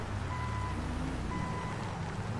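Two steady electronic reversing beeps from a tow truck in GTA 5, each held about half a second with a pause between, over a constant low engine rumble.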